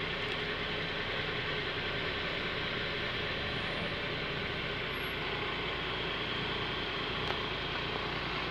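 An AEC Routemaster bus engine idles close by on the heritage route 15 toward Tower Hill, a steady low rumble that holds evenly throughout with no talk over it.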